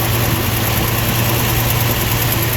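A 1954 Dodge pickup engine idling after a carburetor rebuild, a steady close rumble with an even low hum and constant noise throughout, no talk.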